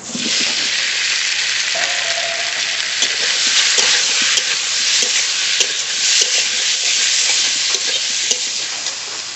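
Mustard oil frying hard in a wok with a dense, steady sizzle throughout, with scattered stirring clatter breaking through the hiss.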